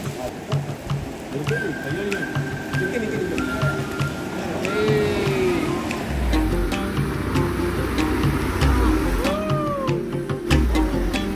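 A bus pulls up at a rural roadside stop beside a waiting shed and ration shop in the rain. A deep engine rumble swells in over the second half, beneath talk, chatter and patter.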